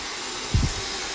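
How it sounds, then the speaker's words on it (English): A hair dryer blows steadily during wrap drying with a flat brush in a hair salon, a constant close airy hiss with a brief low thump partway through. "The dryer goes with the brush."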